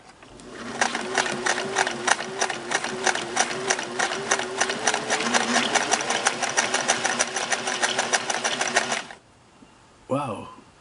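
A Singer Model 401A sewing machine stitches with two needles and four threads in a rapid, even mechanical chatter for about eight seconds, close and loud, then stops, and a voice speaks briefly afterward.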